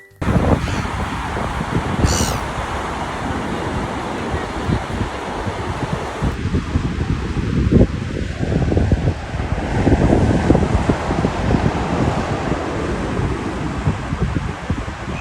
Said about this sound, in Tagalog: Tsaka sobrang lakas din ng hangin sa oras na to.